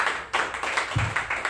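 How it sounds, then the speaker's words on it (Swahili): Members of a congregation clap at a Sunday church service, a quick, even rhythm of sharp claps about five per second, close and moderately loud. "Tumpigie makofi mazuri"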